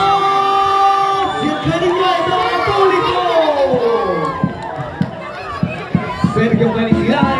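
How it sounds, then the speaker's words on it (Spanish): An audience at an anniversary folk culture event cheers and whoops for an honoree, with loud crowd voices and shouts giving way to scattered claps toward the end. "Gracias, Sergio, te mereces los aplausos."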